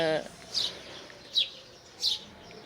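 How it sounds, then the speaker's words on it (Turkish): Three short, high bird chirps in a garden, spaced about a second apart, fairly faint, over quiet background. "Eğer siz de bahçenizde su, kuş sesi duymak istiyorsanız"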